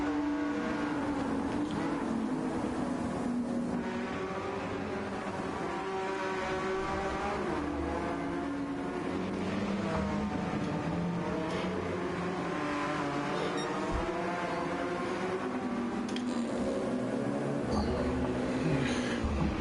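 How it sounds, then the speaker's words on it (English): Race cars at Spa-Francorchamps, including a Porsche, roaring engines rising and falling as they sweep through a corner, heard at a distance beneath continuous commentary. "Alden sweeps around the outside of the French-driven Porsche"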